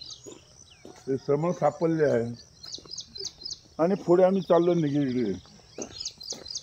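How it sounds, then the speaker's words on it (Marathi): Small birds chirp in quick repeated bursts in the background while someone talks over them outdoors. "आणि बघा पक्ष्यांचा चिवचिवाट पण होतोय।"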